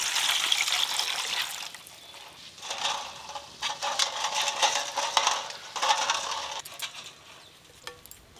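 Water poured and splashing while cooking in a home kitchen, a continuous close trickling and sloshing with occasional metallic clinks, fading toward the end.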